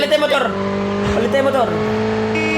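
Motorcycle engine in the mobile shooter game Call of Duty Mobile, a loud continuous revving whine with shifting pitch and tire squeal, under game sounds and voice chat.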